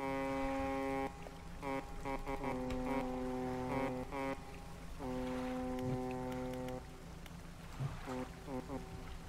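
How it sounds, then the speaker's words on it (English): A boat's foghorn in the fishing video game DREDGE sounds in repeated deep, sustained blasts of varying length, loud over a soft wash of water, with a player's voice briefly overlapping. "How do you use the foghorn?"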